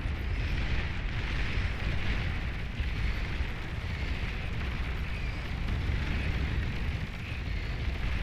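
Rumbling, crackling artillery barrages from catapult units in the Beyond All Reason strategy game, a dense continuous roar of overlapping distant explosions with no pauses throughout.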